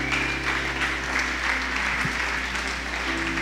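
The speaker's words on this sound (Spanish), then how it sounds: "Denle un fuerte aplauso a nuestro Dios." A church congregation gives sustained applause at the close of a sermon, a fairly soft, steady patter of many hands over a low, constant hum, with no talking heard.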